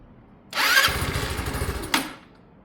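A Sinnis Harrier motorcycle with a brand new carburettor, one that struggles with revs on startup, cranks and catches into a rough, pulsing idle with a short rev burst, then cuts out after about a second and a half.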